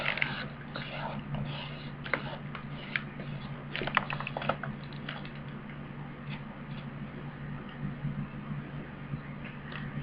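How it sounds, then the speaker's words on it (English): Excess pages are trimmed off a small handmade journal made from recycled materials, with quiet clicking and crisp cutting ticks over a low steady hum, close and fairly soft. "And we'll trim the excess pages off."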